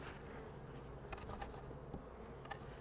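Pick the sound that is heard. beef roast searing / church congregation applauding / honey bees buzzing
honey bees buzzing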